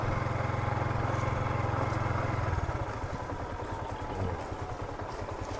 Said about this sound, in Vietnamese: Chạy xe ba gác vô đây.